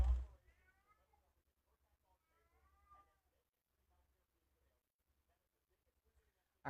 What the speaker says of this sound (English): No, somebody's meowing.